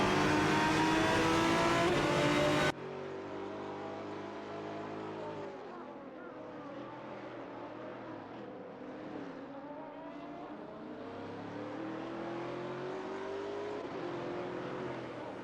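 Race cars in a video game, among them a Tefo Speed 12 GTS and a Maserati, are heard. A loud, high engine wail cuts off abruptly, then engines drone and rise in pitch underneath continuous talking.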